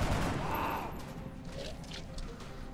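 A burst of gunfire from the XCOM: Enemy Unknown video game cracks out at the start, then gives way to scattered, quieter shots and clatter with no talk.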